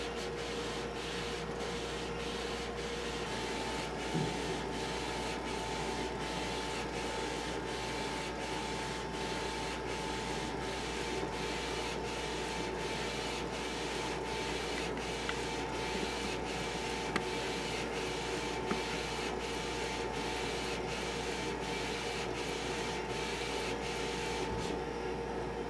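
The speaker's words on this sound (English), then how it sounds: "The machine is now rewinding and will now print the color layer" An M2 X Series garment printer runs steadily while laying down the color layer on a black shirt, a continuous mechanical hum with a rapid, regular ticking of the print head carriage throughout, with no voices.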